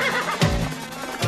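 A horse gives a short, loud whinny up close, with no talking.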